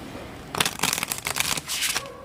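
Celtic Spirit Oracle cards being shuffled by hand, several quick papery riffling bursts in an uneven rhythm, close up and with no voices.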